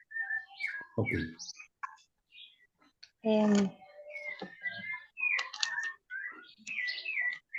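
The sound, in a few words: many small birds chirping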